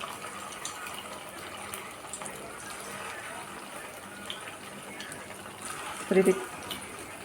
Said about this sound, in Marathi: तर चला आता आपण वडेसुद्धा हे तळून घेऊया